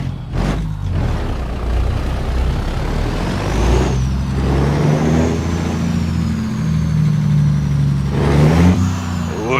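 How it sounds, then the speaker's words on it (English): A custom long, lowered truck in American Truck Simulator runs with a steady deep engine drone, rising and shifting in pitch, broken by sharp hissing air-brake bursts near the start and end. "Ooh, that truck sounds good."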